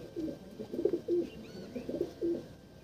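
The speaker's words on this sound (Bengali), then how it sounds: "আমি এবার মাদি পায়রাটা দেখাচ্ছি" A female pigeon coos in low, throaty bursts, heard up close in a steady rhythm of several short rolling phrases with no voices.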